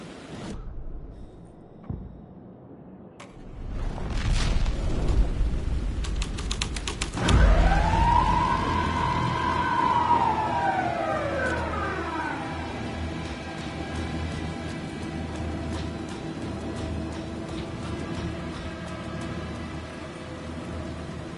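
A police car siren in the video game Alan Wake 2 rises in a long wail after a few sharp impacts, then continues faintly under a steady ambient drone.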